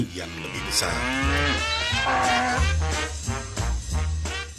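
A cartoon cow gives a long, loud, wavering moo that dips and rises in pitch, followed by shorter repeated lowing calls close up.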